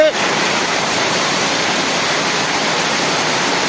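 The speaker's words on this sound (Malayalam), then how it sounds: "മഴ ശക്തിയായി പെയ്യുന്നുണ്ട്. വെള്ളം കൂടിക്കൊണ്ടിരിക്കുകയാണ്." Floodwater rising in the Kakkidikkal area rushes under relentless heavy rain, making a dense, close, even roar that holds steady throughout.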